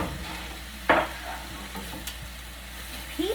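Vegetables are stir-fried in a pan for a lobster and shrimp dish, giving a soft steady sizzle with a sharp hiss and scrape near the start and a few quieter stirring clinks.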